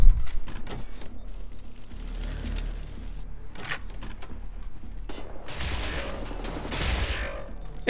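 Sharp, rapid shots from the Laserkraftwerk laser weapon in Wolfenstein: The New Order crackle in quick clusters, some closely paired, with a denser buzzing burst of fire near the end.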